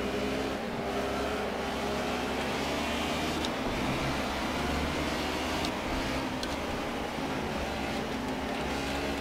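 A DTM race car engine in the Project CARS video game drones loud and continuous, held near the rev limiter with a dense, steady roar and a few brief high transients.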